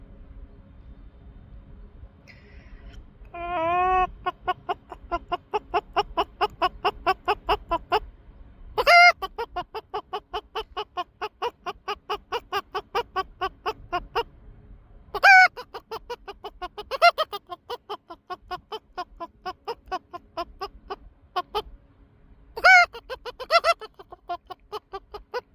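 A voice imitates a chicken, giving repeated rapid clucking bursts and a few higher squawking crows, loud and close, with brief pauses between runs.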